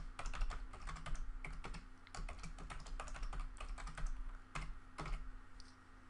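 Someone types a password on a computer keyboard: quick, irregular clusters of close key clicks with brief pauses, steady throughout and with no talking.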